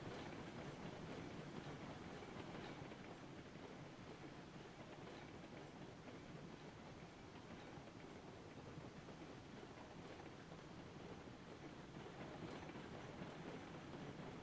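Braked train wheels slide along the rails in the Railroads Online video game, a continuous loud rumbling clatter of log cars with a steady grinding wash throughout.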